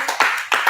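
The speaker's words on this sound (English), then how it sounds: "Oh, let's clap." A few sharp handclaps at a youth summit, three or four quick bursts close by with short gaps between them, no talk over them.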